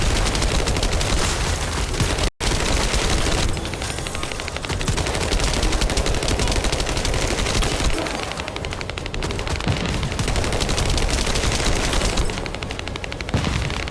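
Sustained automatic gunfire from the video game The First Descendant, loud and nearly continuous across the clip with one brief break early on, a dense rattling barrage of rapid shots.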